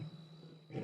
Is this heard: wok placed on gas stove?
no